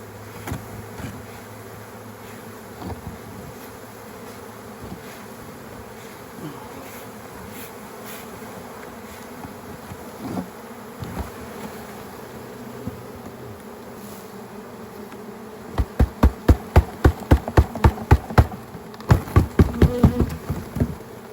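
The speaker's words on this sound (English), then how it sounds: "So you can see just a giant box of bees here." A swarm of bees buzzes inside a giant box, a continuous close droning hum with scattered tapping and knocking, then a run of sharp rhythmic thumps near the end.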